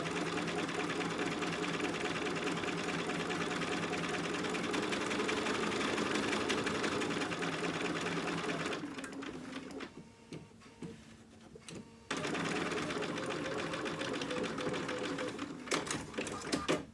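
A sewing machine runs steadily and close for about eight seconds stitching fabric for a dog outfit, pauses briefly, then starts again for a few more seconds.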